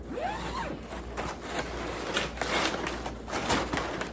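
Quick zipper pulls rasp on a handmade fabric duffel bag, several short bursts close to the microphone with quiet pauses between.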